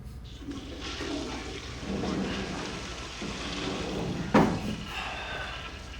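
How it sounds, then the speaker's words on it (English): Toilet flushing in the TV show LOST, a sustained rushing, gurgling wash of water with a brief sharper clunk partway through, steady and fairly close, with no talking. "Would have checked the flush first."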